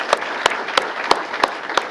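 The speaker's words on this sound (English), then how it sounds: "Let's have a round of applause for them." Audience applause at a mayor's employee award ceremony: six sharp, evenly spaced claps ring out, sounding like a small group clapping sparsely rather than a full roar.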